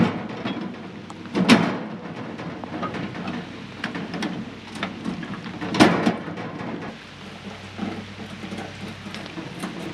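Steady rain falls outdoors around an electrical cabinet, a constant hiss with a few louder thuds and rumbles breaking through, and no voices.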